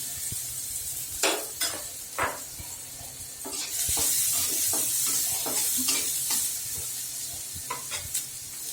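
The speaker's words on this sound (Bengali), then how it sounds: "সামান্য তেল দিব পেঁয়াজ কুচিয়ে রেখেছি এই কুচি করা পেঁয়াজ দিয়ে দিচ্ছি" Chopped onions fry in a little oil for a Bengali egg roast. A bright sizzle swells midway while repeated stirring strokes scrape and tap the pan.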